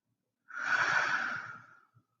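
A single long, soft exhale during a yoga forward fold, lasting about a second and a half and close to the listener, fading out with a faint breathy tail and no talking.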